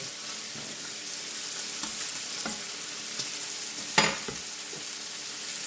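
A vegetarian galette cooking in a pan gives off a steady, close sizzle, with a few soft clicks and one sharper tap from a utensil partway through, no voices.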